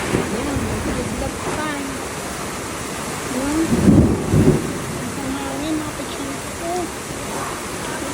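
Heavy rain pours steadily outdoors with deep thunder rumbling through the middle, a loud continuous downpour, and birds chirp faintly in the background.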